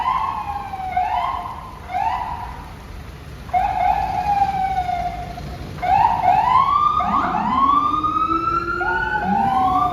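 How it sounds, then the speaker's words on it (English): An ambulance's wailing siren rises and falls repeatedly, growing louder as it approaches, with a second siren tone joining near the end over New York City street noise during heavy rain and flash flooding. "Ambulance coming through. Let the ambulance through."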